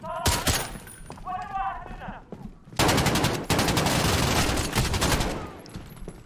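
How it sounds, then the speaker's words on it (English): Heavy gunfire in the Call of Duty Modern Warfare campaign: loud bursts of automatic weapons and rapid shots, sustained and dense over the clip, with some brief voice or effect sounds early on. "Who y'all shooting at, first of all?"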